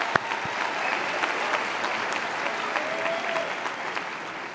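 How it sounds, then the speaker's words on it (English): A commencement crowd at Roger Williams University applauds in an outdoor-sounding space, a continuous wash of many hands clapping at moderate, slightly distant loudness for several seconds. "Join me now in thanking them for a round of applause."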